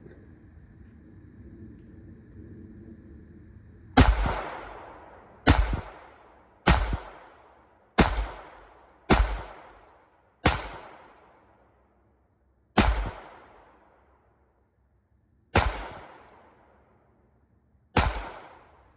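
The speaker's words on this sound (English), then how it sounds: "That first magazine that you just saw was actually 10 rounds of Remington Golden Bullet 22 long rifle." Ten sharp, loud .22 Long Rifle gunshots from Remington Golden Bullet rounds crack out one at a time at uneven intervals, each followed by a short decaying tail. They follow a few seconds of low background hum.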